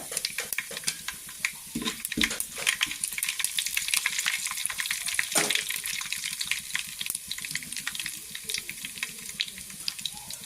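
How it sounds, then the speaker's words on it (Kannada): Mustard seeds and cumin frying in oil for a sweet pumpkin palya, a continuous close crackling sizzle with fine popping spatters and a few louder sharp pops. "ಸಾಸಿವೆ ಆಮೇಲೆ ಜೀರಿಗೆ ಹಾಕ್ಕೊಂಡು ಅದೊಂದು ಸ್ವಲ್ಪ ಫ್ರೈ ಮಾಡಬೇಕು"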